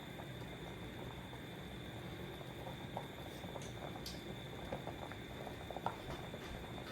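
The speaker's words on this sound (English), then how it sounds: "Everything is still boiling away there." Corn soup broth boils in a pot with a steady, dense bubbling and patter that runs unbroken throughout, with a few slightly louder pops near the end.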